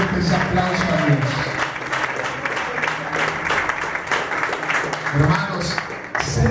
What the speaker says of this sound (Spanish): yo les hago fuertes aplausos a Dios